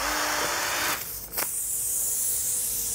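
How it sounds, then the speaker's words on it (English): A high, whining drill boring a hole in a tire runs steadily, briefly cutting out and catching again before continuing its loud, hissing buzz. "we're gonna drill a hole in this tire"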